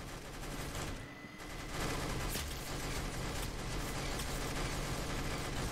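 Minigun fire in the Roblox game Arsenal: a loud, dense stream of rapid gunfire that dips briefly near the second mark, then resumes harder and continues to the end, with no talking.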